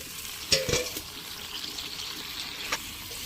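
Water poured into a pot of vegetable curry made with plantain in a home kitchen, a brief splashing pour near the start followed by soft bubbling and faint simmering.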